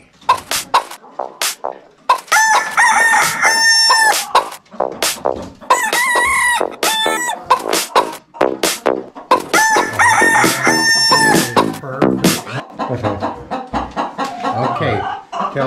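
Backyard chickens cluck and a rooster crows repeatedly in loud, close bursts with short gaps, the calls overlapping into a busy farmyard chorus.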